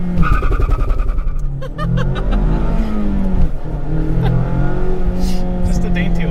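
A 2020 Mazda Miata engine revs in first gear with the clutch in, climbing and falling in loud, close sweeps inside the cabin while people talk over it.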